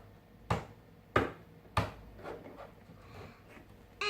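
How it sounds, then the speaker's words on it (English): Three crisp footsteps land evenly spaced, close and distinct against a quiet room, followed by faint softer shuffles and a final sharp knock. "The footsteps sound like this."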